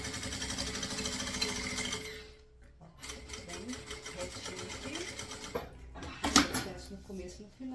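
Sewing machine stitching a bag made of synthetic material, with satin mentioned as a fabric, runs in steady rapid bursts, pausing briefly near the middle before resuming, close and moderately loud.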